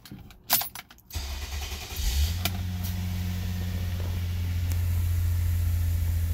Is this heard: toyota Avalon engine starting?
yes